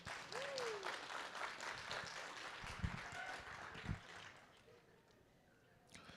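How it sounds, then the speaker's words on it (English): Audience applause for Stephanie Lopez Contreras, third place winner at a College of Education Three Minute Thesis event, steady and full for several seconds with a cheer or whoop early on, then tapering off. "Can we clap for her, please?"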